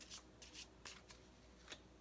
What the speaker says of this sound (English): Everyone has their own shuffling process.